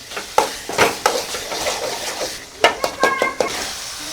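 A spoon stirs village-style prawn thokku frying in a pan, giving a series of sharp scraping clinks against the metal over a steady sizzle, close and fairly loud.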